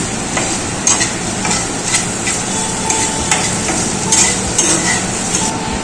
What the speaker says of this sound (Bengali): সবগুলো একটু হালকা ভেজে নেব কয়েক মিনিটের জন্য।